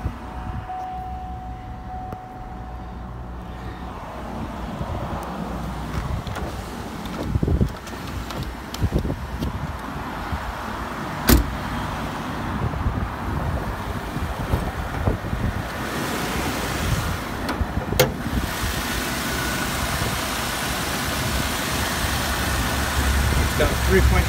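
A 2007 Buick LaCrosse with a 3.6 liter V6 idling outdoors, a low steady engine rumble under heavy wind noise, with a couple of sharp clicks and bumps along the way.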